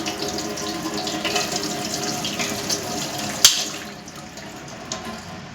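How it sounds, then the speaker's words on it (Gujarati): Water is poured steadily over an ice tray to loosen the cubes, a continuous close splashing rush with a brief sharper splash midway before it eases off. "પેલા અહીંયા પાણીથી આના ઉપર નાખશું એટલે પાણીથી બહાર નીકળી જશે બરફ."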